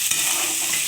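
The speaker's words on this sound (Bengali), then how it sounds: "কুমড়োটা আমি এবার ভালো করে ভেজে নেব।" Pumpkin pieces fry in a pan with black cumin (kalo jeere) and green chillies, giving a steady close sizzle of hot oil while a utensil stirs them, with one brief scrape near the start.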